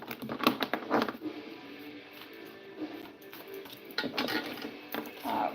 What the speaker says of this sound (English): I'm going to go ahead and give the deck a shuffle.